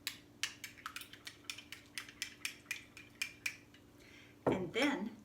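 A utensil stirs red food coloring in a small container, making a quick run of rhythmic clinking taps against the sides, followed by a brief louder scraping clatter near the end, close up.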